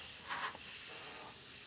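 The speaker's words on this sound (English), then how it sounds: "when I spray the darker green, which I'm going to do right now too" Airbrush spraying dark green paint, a close steady airy hiss with slight pulses in strength over a short stretch, no voices.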